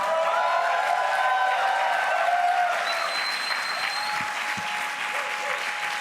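An audience at a global development event applauds in a steady, sustained wash of many hands for six seconds, easing slightly toward the end, with faint tonal ringing above it.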